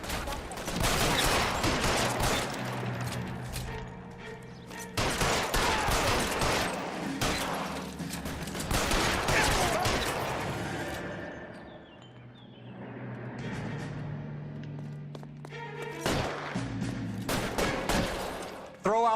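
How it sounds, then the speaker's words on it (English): Rapid bursts of gunfire ring out in the crime video game LA Noire, loud and close, with clustered volleys separated by brief lulls over a constant game-score rumble. "Fire a warning round."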